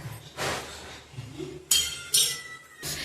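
A metal lid clinks down onto a cooking pot of mutton sukka, two sharp ringing knocks close together, with soft kitchen shuffling around them.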